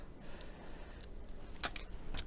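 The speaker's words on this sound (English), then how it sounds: "So I'm just going to cut some of our strips down." Scissors snip through strips of card for a handmade card kit. A few quiet, separate cutting clicks come close together near the end over a faint, quiet room background.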